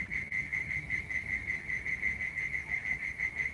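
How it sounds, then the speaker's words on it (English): Crickets chirping at sundown in a steady, high-pitched pulsing trill, continuous and moderately near against a quiet outdoor background. "Can you hear the crickets going out?"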